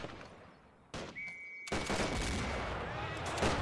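Rifle volleys crackle in a German Revolution 1919 strategy video game battle between Freikorps and Spartacists, a sharp shot followed by a dense, sustained burst of gunfire, fairly loud against game background noise.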